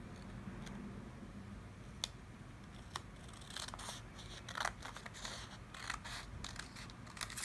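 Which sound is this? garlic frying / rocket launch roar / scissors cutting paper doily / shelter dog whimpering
scissors cutting paper doily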